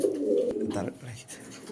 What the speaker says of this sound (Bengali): নর কবুতর রেসার রেসার নর